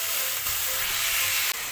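Green chilli, eggplant and potato sizzle steadily in hot oil in a home kitchen pan, a continuous close hiss with faint stirring and no talking.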